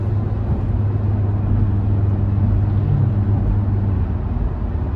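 A car cruises along a New York highway, heard from inside as a loud, steady engine and road rumble with a continuous low drone and no talking.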